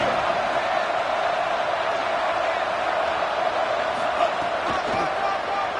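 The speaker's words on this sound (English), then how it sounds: "the crowd coming to life here, trying to help this defense down in the red zone" A football stadium crowd roars steadily as fans rally behind the defense in the red zone, a dense wall of cheering with a commentator speaking over it.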